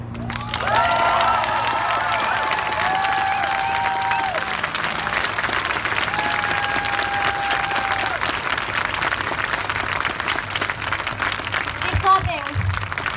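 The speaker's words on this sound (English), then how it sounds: "Keep clapping." An outdoor rally crowd in Portland, Oregon claps and cheers steadily for several seconds, a thick sustained wash of applause with scattered whoops that slowly thins toward the end.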